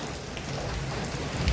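Steady rain in Kerala patters on a surface nearby, a continuous soft hiss with scattered droplet taps.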